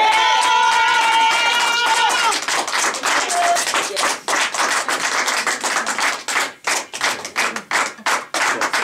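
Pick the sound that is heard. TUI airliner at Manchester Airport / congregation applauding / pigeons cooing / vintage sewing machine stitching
congregation applauding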